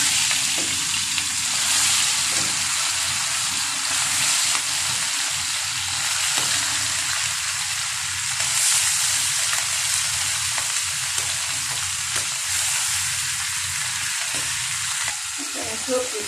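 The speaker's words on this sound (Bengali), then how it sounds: "এখন মাছ ভাজবো, যে মাছগুলি ভেজে নেব।" Sea fish frying in a pan gives a loud, continuous, close hissing sizzle that holds steady throughout, with faint voices underneath.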